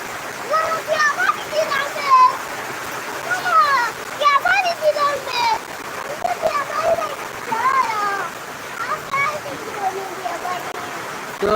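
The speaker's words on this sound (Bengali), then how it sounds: "আজ অনেক দিন পর বৃষ্টি দিচ্ছে" Steady rain hisses and patters continuously while a person talks over it at close range.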